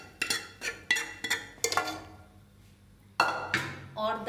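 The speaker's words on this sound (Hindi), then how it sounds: "और दाल को अच्छे से इस मसाले में हम हिला देंगे" A metal spoon stirring arhar dal with masala in a pressure cooker, a run of sharp clinks and scrapes against the pot, quiet and close, with a brief pause midway.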